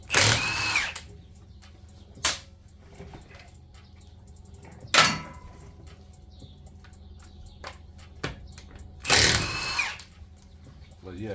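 A power tool with a socket works the strut bolts on a Ram 1500, firing in short loud bursts separated by quieter pauses, with fainter clicks and small noises in between and no speech.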